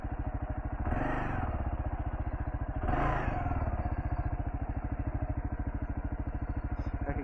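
A Kawasaki KLR650 single-cylinder engine chugs steadily and close on an off-road hill climb, with two brief throttle blips rising over its loping idle rhythm.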